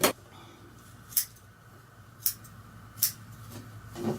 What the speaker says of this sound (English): Any excess skin will be trimmed off.